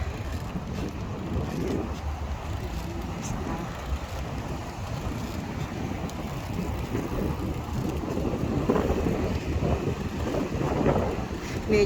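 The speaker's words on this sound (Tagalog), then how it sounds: "Medyo mahangin ngayon." Steady wind roars across the microphone while cycling along Tolo Harbour in Tai Po, Hong Kong, a continuous rumbling buffet throughout with gusts swelling toward the end.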